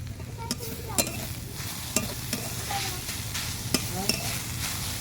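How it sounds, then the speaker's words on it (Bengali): Grated carrots with salt stirred in a frying pan with tempered spices, a soft continuous sizzle punctuated by regular spatula taps and scrapes against the pan. "এইভাবে আমি দু থেকে তিন মিনিট খুব ভালো করে একটু নাড়াচাড়া করে নেব যাতে গাজরগুলো সেদ্ধ হয়ে যায়"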